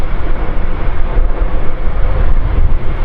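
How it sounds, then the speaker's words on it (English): An Airbus airliner flying past at the Farnborough Airshow, a loud, steady, broadband jet roar that holds for the whole stretch with no talk over it. "The noise levels of these big airliners have been reduced over the years"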